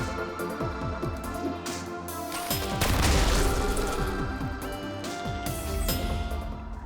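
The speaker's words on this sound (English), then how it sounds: "Shotguns." Heavy gunfire and booming blasts, shotgun fire in the sci-fi video game Deep Sky Derelicts, ring out as a dense, continuous barrage of repeated shots and impacts that swells louder midway, with no talking over it.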